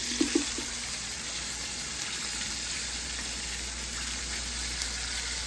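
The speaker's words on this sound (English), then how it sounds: "I cooked them with butter and garlic pepper seasoning. So I'm gonna let them stay on for a couple more minutes. So I'm gonna start adding my meat." Meat fries in butter with garlic pepper seasoning for steak fried rice, making a steady, even hiss of sizzling fat that runs unbroken throughout, moderately loud and close, with a couple of faint knocks near the start.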